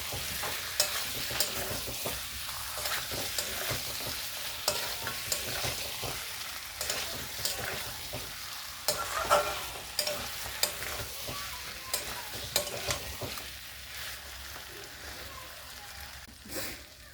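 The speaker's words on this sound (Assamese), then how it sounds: "এতিয়া বাদামখিনিৰ সৈতে মই মাংসখিনি আৰু 1 মিনিট টাইম ফ্ৰাই কৰি ল'ম" Mutton pieces frying with cashew nut paste and cashews in a pan for a mutton curry, a steady close sizzle with repeated scraping and stirring strokes throughout, no talking.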